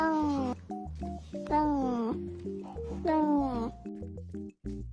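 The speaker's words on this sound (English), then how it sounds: "I added the boom cat." An added boom cat sound effect plays, a cat's meow layered with deep rhythmic bass booms, loud and repeated over several seconds on a Minecraft stream.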